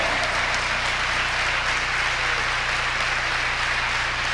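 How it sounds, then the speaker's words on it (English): A crowd at a 1991 women's college volleyball game applauding the seniors, a steady wash of clapping heard from a distance in a large gym under a constant low hum. "Have a nice crowd tonight, showing their appreciation for the seniors."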